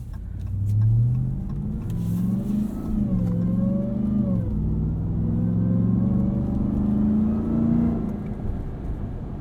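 A 2021 Ram 1500 TRX's supercharged Hemi V8 engine revs loudly and steadily, its deep rumble rising and falling through gear changes, close and continuous with no voices.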